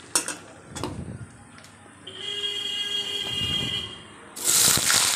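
Salted potato pieces fry in oil in a pan, a steady close sizzle between clinks of utensils, with a brighter burst of hiss near the end.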